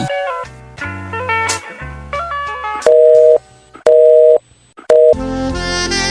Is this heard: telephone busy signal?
yes